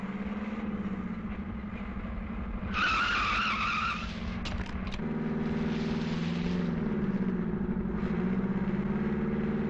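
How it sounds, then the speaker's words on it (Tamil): A car in a tense film scene reverses and pulls away quickly, with a droning engine, a sharp tyre squeal midway and the engine note rising and falling afterward. "வண்டி அப்படியே ரிவர்ஸ்ல எடு"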